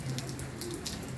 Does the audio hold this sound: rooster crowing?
no